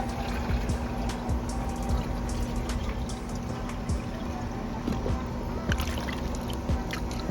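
Water pours and trickles steadily for several seconds, with a constant low hum running beneath it and faint drips and splashes scattered throughout.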